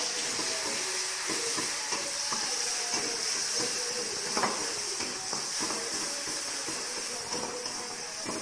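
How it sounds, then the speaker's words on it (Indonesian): Pigeon frying in hot oil, giving a steady, dense sizzle and crackle that runs without pause, with occasional stirring scrapes and pops close by. "Terus digoreng."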